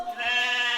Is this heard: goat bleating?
yes